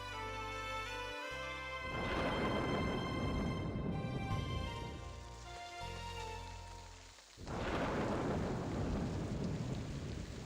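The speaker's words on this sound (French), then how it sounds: "Quand il y a une pluie soudaine et inattendue, c'est un bon présage." Sudden, unexpected heavy rain pours steadily while deep thunder rumbles and cracks loudly at intervals, swelling and fading with the storm.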